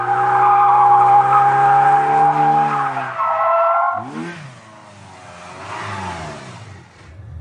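A drift car slides with a long sustained tire squeal and revving engine, then a second burst of squealing tires, loud and close with no voices, at a drifting event.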